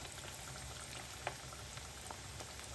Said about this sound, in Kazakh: Майымыз қызып дайын тұр. Енді сиғанша саламыз қазір.